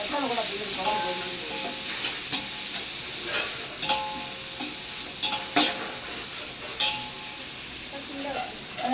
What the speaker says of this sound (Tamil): வெங்காயம் போட்டாச்சு. இப்போ நல்லா வதக்கிடலாம்.